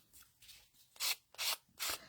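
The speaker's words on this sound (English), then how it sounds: "If you just take a sanding block, you can get rid of those." A sanding block rubs across paper tags from a paper craft kit, giving several short rasping strokes that grow louder and more regular toward the end, close and alone.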